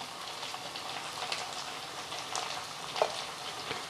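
Spices, chilli powder and onion-garlic masala, frying in a pan for a potato bhaji, giving a steady close sizzle with soft crackles and a few small pops, no voices.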